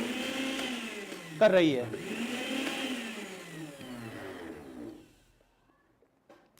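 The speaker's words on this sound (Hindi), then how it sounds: "तो देखिए, अभी ये मिक्सी अपना काम ठीक से" A repaired juicer mixer grinder motor whirs steadily at close range with a brief surge in the middle, then cuts off and leaves near silence; a voice speaks over the running machine.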